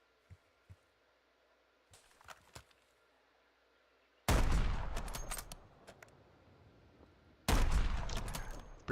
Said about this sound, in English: Pretty bad shooting.